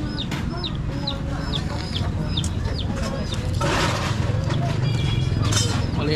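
Chickens and small chicks cluck and peep close by, with repeated high chirps over a busy, rumbling barnyard background that grows louder partway through.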